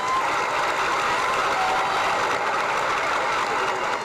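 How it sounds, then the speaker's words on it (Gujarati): Applause at a school event, a dense continuous wash of many hands clapping at a steady loud level throughout, with no distinct voices. "આપણે જોરદાર તાળીઓથી સ્વાગત કરીશું"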